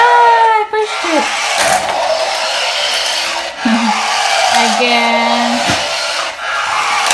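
A Smart Steer Lightning McQueen toy RC car whirs close and loud in short start-stop bursts, its small electric motor whining and bending in pitch, while people talk over it.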